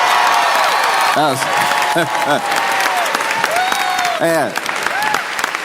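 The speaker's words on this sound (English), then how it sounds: "when J.D. Vance got booed" A large crowd roars and applauds loudly at the Super Bowl, a dense wash of noise with several rising shouts and a voice talking briefly over it.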